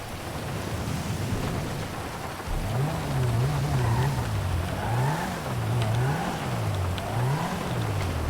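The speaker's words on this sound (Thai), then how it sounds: "เอารถมาเดี๋ยวชลิตขับคันนี้ตามไป" A car driving off in a Thai drama scene, its engine rising and falling in repeated revving waves over a steady background wash like rain, with no talk over it.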